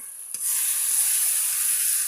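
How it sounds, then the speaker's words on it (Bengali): A spice paste for fish curry fries in oil and gives off a bright, steady hiss after a brief tap at the start, close and uninterrupted for a couple of seconds. "মাছের ঝাল করার জন্য মশলাটা কষিয়ে নিয়েছি।"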